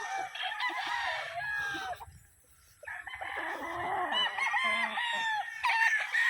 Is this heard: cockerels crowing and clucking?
yes